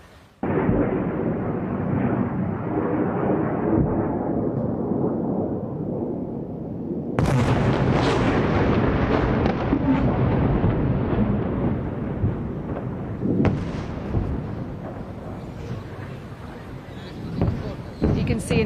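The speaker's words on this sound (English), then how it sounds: "You can see and hear there the sound and the sight of those Iranian missiles being intercepted in the sky high above Israel by its air defense systems." Air defense intercepting Iranian missiles high in the sky over Tel Aviv at early morning, heard as loud sustained rumbling booms with a sharp burst midway and another sharp crack later, continuous and reverberant throughout.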